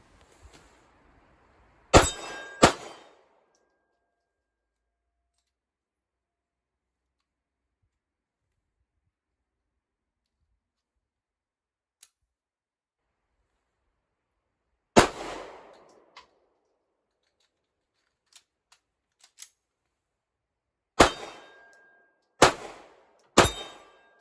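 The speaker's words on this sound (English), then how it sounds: "Switching back over to some more Fiocchi. Let's see if it functions this time now that the gun is warmed up" A Colt Mark IV Series 80 Government .380 Auto pistol fires Fiocchi ammunition at an outdoor range: sharp, loud isolated shots, a pair near the start and a quick burst of three later, separated by long quiet gaps and faint metallic clicks.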